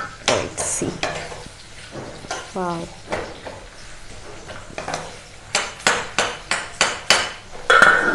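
Chicken deep-frying with onions in a kadai: a steady sizzle under a series of loud, sharp metal scrapes and clanks from stirring, some coming in quick rhythmic bursts.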